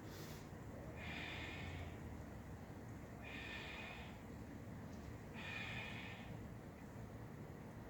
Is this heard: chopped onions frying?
no